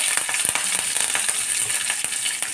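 Curry leaves dropped into hot oil for a yam fry, crackling and spitting loudly in a busy, irregular burst of pops over a constant sizzle, up close with no talk.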